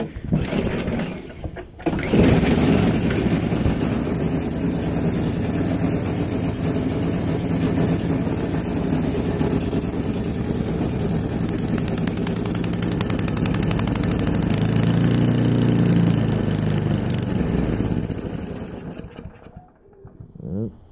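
A Toro Power Max snow blower engine starts after a couple of seconds and then runs at a loud, steady rough drone close by before cutting out near the end.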